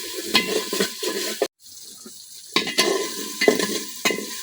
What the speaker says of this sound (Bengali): পেঁয়াজের সাথে আদা রসুন কিছুক্ষণ ভাজা নেন